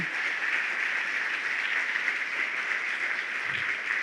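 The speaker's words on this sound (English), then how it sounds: "we can have a round of applause for all of our sponsors this morning" An audience packed into a room at a healthcare awards morning breaks into sustained applause, a dense, even wash of many hands clapping from start to finish, loud and steady, with no voices over it.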